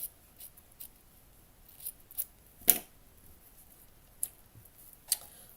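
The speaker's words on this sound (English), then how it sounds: "Cut this side down." Scissors snip a small piece for a miniature cat cafe garden room box. Sparse, close, quiet cuts come at uneven intervals, with one sharper snip in the middle.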